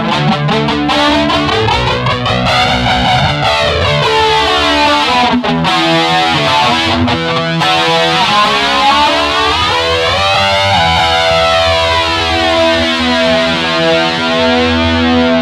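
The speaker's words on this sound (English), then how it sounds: "Now you have a metal with flanger." An electric guitar played through heavy metal distortion with a flanger effect, thick sustained chords sweeping up and down in slow whooshing waves, loud and continuous.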